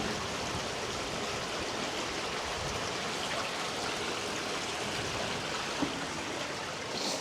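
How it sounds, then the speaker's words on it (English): A small stream trickles and rushes down toward a beach at Runkerry in spring, giving a steady, close, broadband water rush that stays even throughout with no talking. "Listen to the noise of the wee stream going down."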